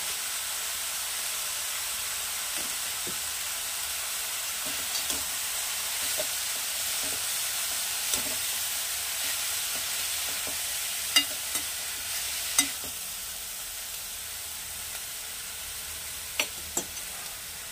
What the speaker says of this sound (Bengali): এটা মিনিট খানেক হতে দেবো, একটু নাড়াচাড়া করে